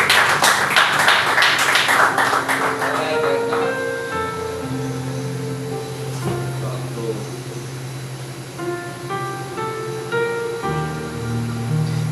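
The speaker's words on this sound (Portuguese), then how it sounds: "Dê uma linda salva de palmas." A church congregation applauds, a dense wash of clapping that fades after a few seconds as organ or keyboard chords sustain underneath, loud and roomy.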